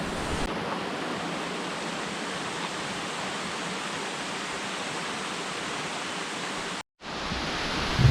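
Steady, dense rush of a jungle waterfall, Phitsawong Waterfall in Thailand, fills the scene at constant loudness, briefly cutting out near the end before resuming.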